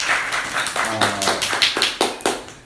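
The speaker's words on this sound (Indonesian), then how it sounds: "Tepuk tangan dong." Audience clapping in a series of sharp, uneven claps that build into a quick scattered round, close by, with a brief voice underneath at one point.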